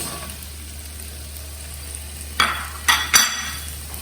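Chopped tomatoes stirred and sautéing in a hot pan for tomato pulao, a soft steady sizzle broken by three sharp scraping stirs of a spoon toward the end, close and fairly quiet.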